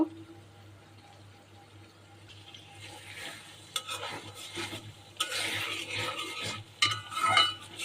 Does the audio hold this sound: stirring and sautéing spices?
yes